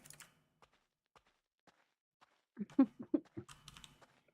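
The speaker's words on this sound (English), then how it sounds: "I love when I click, it sounds like a keyboard." In-game mouse clicks in The Stanley Parable that sound like computer keyboard typing: scattered faint single clicks at first, then a quick louder burst of clacking keystrokes in a quiet room.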